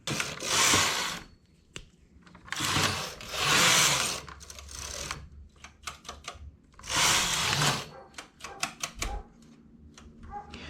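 A knitting machine sews a shoulder seam, its carriage running in three long, loud whirring passes, with sharp clicks and rattles of the mechanism between them.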